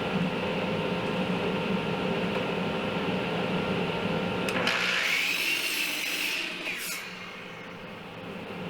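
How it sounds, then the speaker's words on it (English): A saw cuts through wooden table legs with a steady rasping, grinding drone that changes pitch midway and then settles to a quieter running hum, close by with no talk. "Here I'm cutting the legs for the table."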